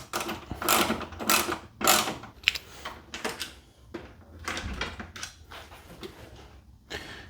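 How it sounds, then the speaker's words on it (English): A number 10 socket wrench ratchets off bolts with repeated quick bursts of clicking, about ten short pulses in an irregular rhythm, close and fairly quiet. "We'll use the number 10 socket"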